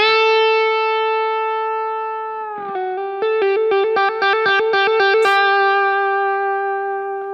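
Electric guitar with effects holds one sustained note, then moves into rapid repeated picking with bends and vibrato around that pitch before settling back on the held tone, loud and alone.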